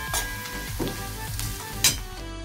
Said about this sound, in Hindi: इधर पेन में मैंने प्याज फ्राई करने के लिए रख दिया है